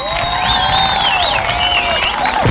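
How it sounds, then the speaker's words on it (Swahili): Students applauding and cheering a visiting guest, dense continuous clapping mixed with high whistles and ululating shouts, loud and sustained throughout. "Makofi na shangwe na nderemo."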